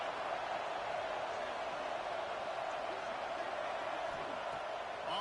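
A home crowd at a football game roars with a loud, steady, broad wash of cheering that holds throughout, with a commentator's voice partly audible.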